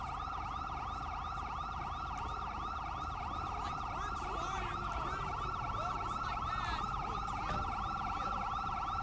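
Several police car sirens in Grand Theft Auto V wail together in overlapping, repeating rises and falls, steady and fairly loud against a low vehicle rumble, with faint background noise and no clear speech.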